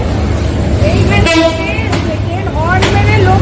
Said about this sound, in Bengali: হর্ন মেরে লোক সরিয়ে তারপরে ট্রেন এগোবে।